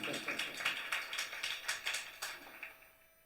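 An audience at a Telugu church service claps in steady rhythmic unison, a series of sharp, fairly even beats that fade out toward the end, heard alone at moderate distance.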